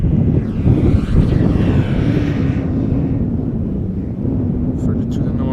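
A Qatar Airways Boeing 777 jet rumbles close and loud at Schiphol Airport, a steady low engine roar with a faint rising whine, and a voice speaks over it.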